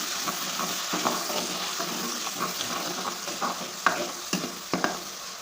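Finely chopped tomatoes with red chilli powder are stirred in a hot pan for dal, giving a soft sizzle broken by repeated scraping and clinking strokes, with a few sharper knocks near the end.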